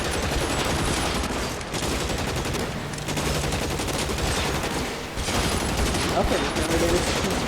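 Sustained, dense gunfire crackles loud and unbroken in L.A. Noire, a continuous fusillade of overlapping shots with only brief dips, alongside some faint voices.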